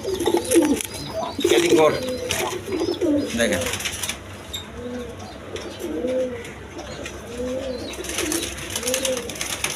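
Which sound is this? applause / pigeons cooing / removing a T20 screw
pigeons cooing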